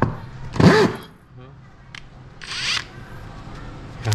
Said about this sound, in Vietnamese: này là chế độ khoan thôi